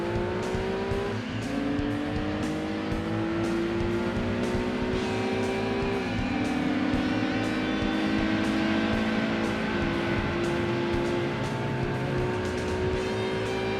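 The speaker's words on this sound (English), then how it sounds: "I'm driving Subaru Impreza Wagon from 1994" A 1994 Subaru Impreza Wagon races in Gran Turismo 2, its engine droning and rising steadily through the gears with other cars buzzing close around it, tires squealing briefly, loud and continuous with no talk.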